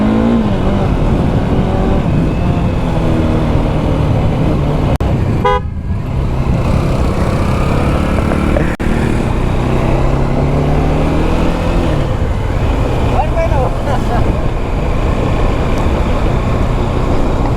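A Bajaj Dominar motorcycle starting up after three months unused, its engine running in a steady close drone with some revving, a brief horn-like toot and traffic noise around it.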